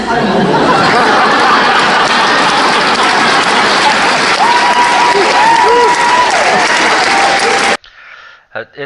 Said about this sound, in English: It is strange how she gets such a applause for something like that.